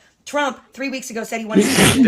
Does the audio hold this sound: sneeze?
yes